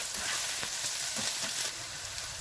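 Onions fry in oil in a pan, producing a faint, even hiss with a few soft stirring taps over a couple of seconds.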